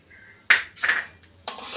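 A spoon stirs milk and sugar in a pot for chira payesh, a flattened-rice pudding, giving a few short, close metallic scrapes and clinks separated by brief pauses.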